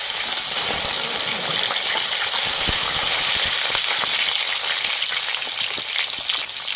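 Pieces of fish frying in oil until reddish-brown, a constant close sizzle with sharp pops and spatters scattered through, no talk over it.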